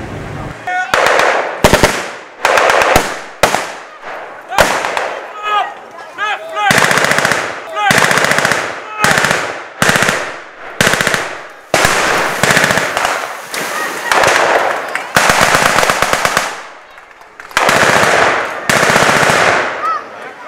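Bursts of machine gun fire at a WWII mock battle reenactment in Overloon, loud rattling volleys in irregular runs with short gaps, some voices and crowd noise mixed between bursts.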